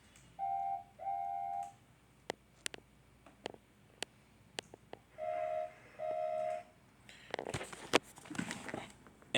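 Two toy Thomas the Tank Engine trains sound their whistles, two short steady toots, then another pair, with clicks and clattering toy-track handling noises in between and a burst of rattling at the end.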